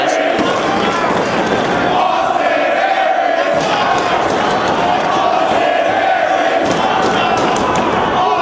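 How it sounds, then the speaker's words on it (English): A red-hot wrestling crowd at a Ring of Honor show roars and cheers continuously, loud and dense throughout, with an announcer talking over the noise. "And this crowd, red hot."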